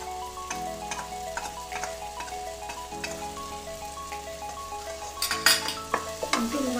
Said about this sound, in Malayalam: നമുക്കൊന്ന് വഴറ്റുക